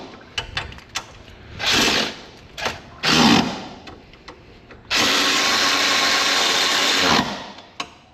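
An impact wrench works on a Toyota RAV4 ball joint, firing in short rattling bursts and then one long sustained hammering run, close and loud, separated by small clicks and knocks.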